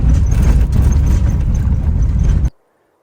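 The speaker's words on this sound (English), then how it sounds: "As you can hear, my car's quite rattly." A rattly car rolls along a gravel road, a loud low engine drone mixed with crunching and rattling that runs steadily for a couple of seconds before cutting off abruptly to silence.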